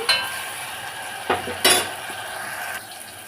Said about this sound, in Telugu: కొత్తిమీర వేసాను కదా ఒకసారి కలుపుకొని